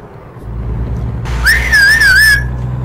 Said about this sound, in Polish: on gwizdać potrafi